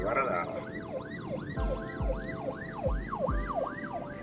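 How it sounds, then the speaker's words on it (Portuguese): Ambulance siren wailing in a rising-and-falling cycle just behind a car in traffic, loud and steady throughout, with a short spoken phrase near the start. "A ambulância está aqui atrás, eu tenho que sair de trás dela, mas está sem espaço."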